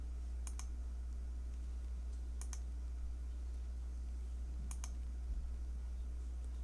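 Mouse clicks in astronomy software come in three quick double clicks spaced a couple of seconds apart, faint and close over a steady low electrical hum.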